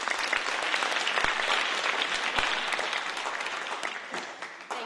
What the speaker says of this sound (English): Let's give her a round of applause.